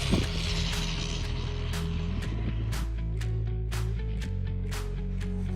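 Traxxas Bandit RC car with a Turnigy motor at full throttle, a steady high motor whine that shifts pitch in steps as it runs, with wind noise and outdoor clatter around it.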